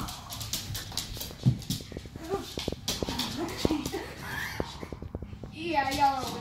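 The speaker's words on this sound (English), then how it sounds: "my doggos." Pet dogs playing tug of war, heard as close growls, whimpers and yips with scuffling, while a person talks and encourages them.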